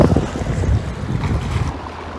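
Strong wind buffets the microphone in a steady low roar at the seaside in the Netherlands, with surf and open-water noise beneath it; no voices.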